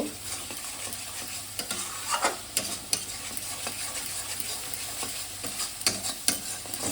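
Spice paste cooked down with a splash of water in a pan for a fish curry, constant sizzling under repeated scraping stirs and sharp spoon knocks against the pan, close and alone.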